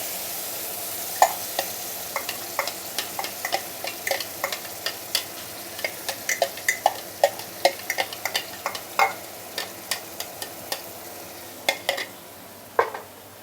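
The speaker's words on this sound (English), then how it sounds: "We shall saute our blended chili." Blended chili paste sautéing in a pan over medium heat for nyonya steamed fish, a soft continuous sizzle punctuated by regular scraping and clinking strokes of a spatula stirring, no voices.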